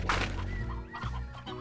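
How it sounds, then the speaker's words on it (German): Chickens cluck in the ranching video game Slime Rancher, a few short throaty clucks and a squawk rising over a steady low game hum, moderately close. "Irgendwo höre ich noch Hühner."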